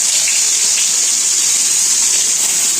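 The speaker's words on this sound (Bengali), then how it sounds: "এখানে আমি মাছটা তেলে ছেড়ে দিয়েছি" Tilapia fish dropped into hot oil in a kadai gives off a loud, continuous, close-up sizzle that holds steady throughout, with no voices.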